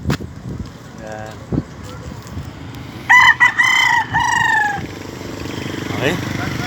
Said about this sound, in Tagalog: ito pala yung manok ni San Pedro